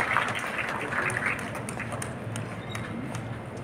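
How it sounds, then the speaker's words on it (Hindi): An audience claps at a district magistrates' honours ceremony in a Patna hall, with steady mid-level clapping that is loudest at first and then eases off. "जोरदार ताली होनी चाहिए पश्चिम चंपारण के लिए"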